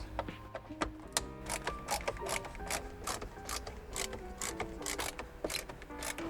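Small mechanical clicks and light metallic ticks come from T20 screws being removed from the head unit of a Mercedes C-Class W203. The sounds are irregular, close and quiet, with no talking.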